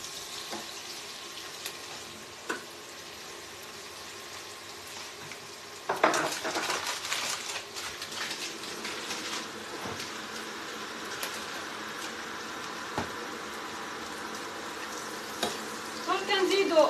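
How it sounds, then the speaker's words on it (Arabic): Onions frying in a pan, a low steady sizzle that grows louder and busier partway through as they are stirred, with scattered scraping and clinks of utensils. "نقلي مليح البصل"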